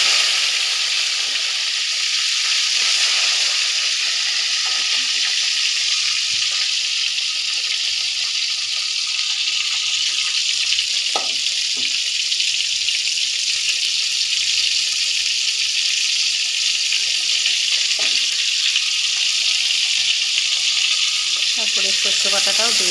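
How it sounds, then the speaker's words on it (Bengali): Tomato sizzles in hot oil in a Bengali home kitchen, a loud, continuous frying hiss that holds steady throughout, broken by a few sharp clinks of a utensil against the pan. "এবার আমি তেলের মধ্যে দিয়ে দিচ্ছি টমেটোটা।"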